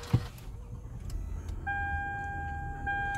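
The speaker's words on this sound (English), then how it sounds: "pay attention to the steering wheel, right, as I turn on the car" A Lexus ES350 powers on and its electric steering column whirs into its set position, a short mechanical thump followed by a steady hum and faint electronic chime tones in a quiet cabin.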